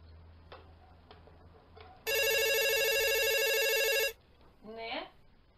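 An indoor telephone rings loudly in one continuous bell-like burst lasting about two seconds, with soft clicks and rustling before it and a short voice right after.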